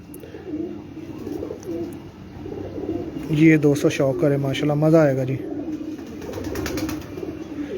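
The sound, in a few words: champion pigeons cooing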